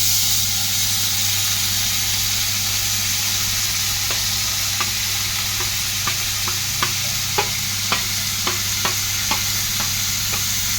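Cowpeas are tipped into onions and chillies frying in hot oil, making a loud, steady sizzle with a string of sharp spoon scrapes and clinks in the second half, no talk.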